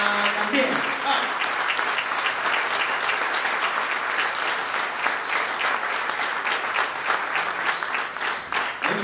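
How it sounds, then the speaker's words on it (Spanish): A crowd gives loud, sustained applause for the kitchen staff at an outdoor gathering in Mar del Tuyú, with dense clapping that stays steady from start to finish. "para ellos un gran aplauso con fuerza"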